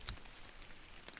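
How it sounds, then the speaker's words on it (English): Rain falling in the Fishing Planet game, a soft steady patter of drops on the surface that stays faint and even throughout, with a few slightly sharper drops and no voices. "it's raining now"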